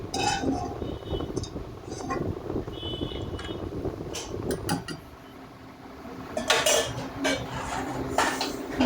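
Dishes and cutlery clink and clatter as fried bori is lifted out of hot oil into a bowl, with scattered metallic taps and scrapes, a pause near the middle, then a denser burst of clinks near the end.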